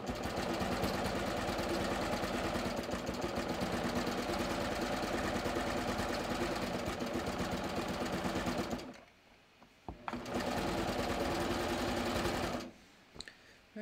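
A sewing machine runs a bathrobe seam in a long, steady, close whirr, stops briefly, runs again for a few seconds, then falls quiet.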